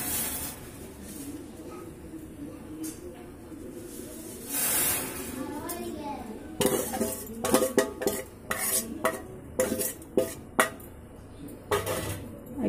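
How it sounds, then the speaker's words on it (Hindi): Roasted vermicelli stirred into boiling milk in a pot, a soft bubbling hiss at first, then a utensil scraping and clinking against the pot in irregular strokes, close and moderately loud. "अब इसमें हम सेवई जो भून के रखे हैं उसको डाल देते हैं।"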